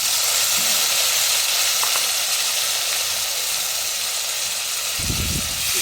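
Garlic-ginger paste goes into onions frying in a pan, giving a loud, continuous, close sizzle that holds steady throughout, with a brief burst of stirring noise near the end.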